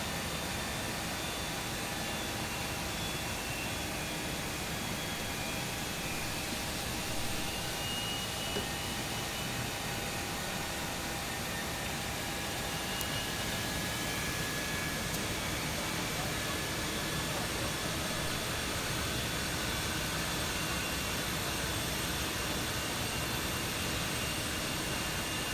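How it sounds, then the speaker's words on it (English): An Airbus A321 Pratt & Whitney jet engine self-motors in a flight-simulator soundpack, a steady broadband rushing hum with a faint high whine, constant for the whole stretch. "So it's gonna self-motor for a little bit, as you remember, until it starts spooling."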